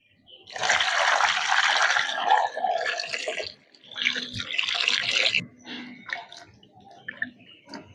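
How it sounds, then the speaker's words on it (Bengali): Tap water runs in broad bursts as small, tender raw mangoes are rinsed before peeling for a pickle, with splashing surges, brief pauses and a few drips near the end. "আমটা হালকা একটু ধুয়ে খোসা ছাড়িয়ে নেব।"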